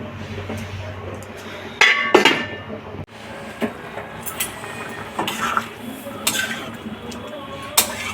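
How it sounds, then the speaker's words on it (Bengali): A lid clanks onto a metal cooking pot of simmering squash curry with a few sharp clinks and knocks amid scattered kitchen clatter, while a person talks over it. "ঢেকে দিচ্ছি, তাড়াতাড়ি ফুটে যাবে।"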